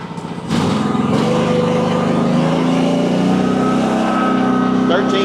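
A Honda engine on a MechMaxx Mec10 mini excavator starts up and runs loud and close, a steady buzzing drone holding even without any talk.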